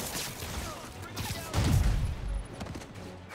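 Gunfire in the Marvel's Spider-Man Remastered video game, a burst of shots at middle distance that swells loudly at the midpoint amid game noise, with voices talking over it.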